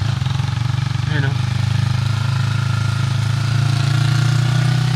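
A motorcycle engine idles close by with a steady low chugging rumble, while a person speaks briefly over it.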